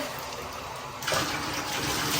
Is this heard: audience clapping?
no